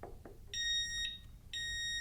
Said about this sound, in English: the Xena disc lock alarm goes off with the slightest nudge